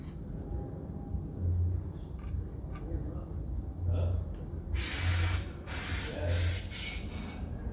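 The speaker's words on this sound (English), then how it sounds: "The tube is obviously airing up in there." Air filling an inner tube inside a 13-inch wire wheel, low pumping pulses at first, then a hissing air flow that comes in repeated bursts toward the end, with some low voice or room noise underneath.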